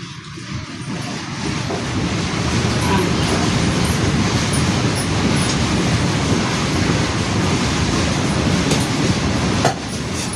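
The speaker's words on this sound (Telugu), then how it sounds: "బాగా ఉడుకుతుంది" A spiced ridge gourd curry simmering with water in a cooking pot gives a loud, steady bubbling hiss that runs unbroken from start to finish, close to the listener.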